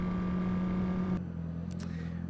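A GB4 race car lapping the Silverstone Grand Prix circuit holds a steady engine tone that cuts off partway through, leaving a quieter, thinner engine note with brief higher bursts.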